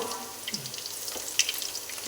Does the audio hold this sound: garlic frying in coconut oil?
yes